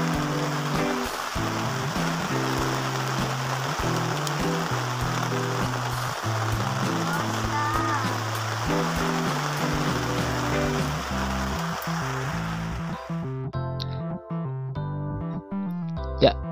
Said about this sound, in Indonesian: Ternyata pagi-pagi kita, tenda kami ini diguyur hujan.